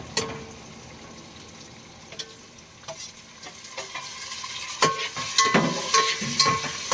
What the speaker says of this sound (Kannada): ಈರುಳ್ಳಿ ಚೆನ್ನಾಗಿ ರೋಸ್ಟ್ ಆಗಿದೆ ಟೊಮೊಟೊ ಹಾಕ್ತಾ ಇದ್ದೀನಿ